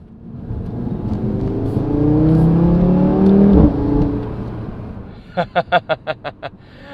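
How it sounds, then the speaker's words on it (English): An Audi RS3 sedan engine revs and climbs in pitch, peaks, then drops away into a quick series of sharp rhythmic blips on a downshift, close and loud. "the downshift is just even better"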